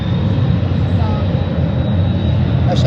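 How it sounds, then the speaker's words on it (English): Aircraft engines running on an airport runway, a loud, steady, close rumbling roar with a faint high whine, filling the short stretch without a break. "Did you hear his engines?"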